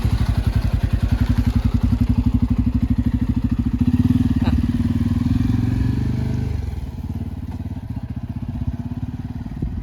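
Close, steady putter of a small motor scooter engine running, easing slightly in loudness toward the end.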